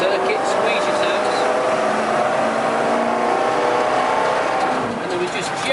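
Jaguar XE Project 8 rolling slowly onto the Silverstone circuit in the rain, a steady engine hum inside the car with rain and road noise, under close talk.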